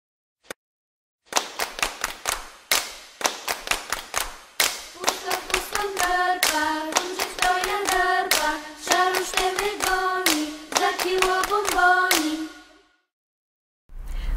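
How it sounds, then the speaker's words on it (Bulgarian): Children clap steadily along with a first-grade music-class song, sharp rhythmic hand claps running for about eleven seconds, joined midway by sustained sung tones, then stopping. "Не забравяйте да пляскате, докато пеете."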